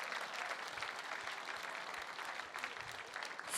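Steady, continuous applause from a gala auction crowd, sustained and fairly distant with no break, a broad wash of many hands clapping at once.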